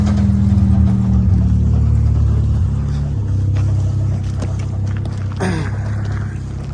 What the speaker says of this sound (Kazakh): Моторы мындай.